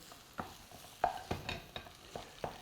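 Chopped ginger being stirred into a boiled potato mixture for aloo tikki, giving a run of soft, close scraping strokes in an uneven rhythm, with faint sizzling in the background and no talking.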